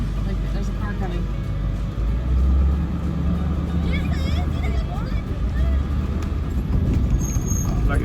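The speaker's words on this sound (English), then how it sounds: "Like there's a car coming." A car drives along a mountain road in Baja California: a steady low engine rumble with road noise, heard from inside or near the vehicle, while people talk over it.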